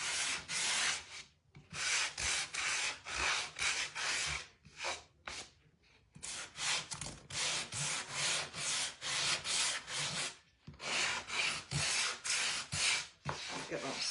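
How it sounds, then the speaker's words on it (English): A sander is worked over a wooden snowman craft piece, making quick, rhythmic back-and-forth scratchy strokes in bursts with short pauses, close and fairly quiet. "take my sander and go over it a bit"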